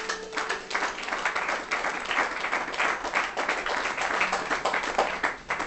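A church congregation claps in sustained, dense applause during a sermon, loud and continuous from start to finish with no talk over it.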